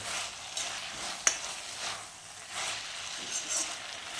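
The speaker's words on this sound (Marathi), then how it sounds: "हे सगळं व्यवस्थित मिसळून घ्यायचं" Schezwan sauce being stirred and mixed into food in a pan, with a faint continuous scraping and sizzle, one sharp utensil knock partway through, no talking.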